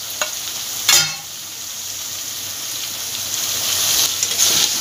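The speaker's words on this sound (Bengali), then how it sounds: "যতক্ষণ না গন্ধটা যাবে ততক্ষণ ভালোভাবে তেলের মধ্যে এটা ভালোভাবে নেড়ে যেতে হবে" Sliced onion with ginger garlic paste frying in hot oil for a pointed gourd curry, a loud close sizzle broken by sharp scrapes of a spoon stirring the pan.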